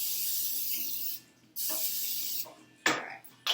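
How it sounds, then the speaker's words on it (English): Pan cooking spray hisses from an aerosol can onto a cake pan in two long close bursts, then a shorter spurt and a quick final puff. "we're going to grab some of our pan cooking spray"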